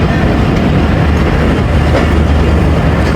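The 38 DN Baba Fareed Express passenger train on a branch line from Lahore Junction makes a loud, close, continuous rumble with faint rhythmic wheel clatter and no speech.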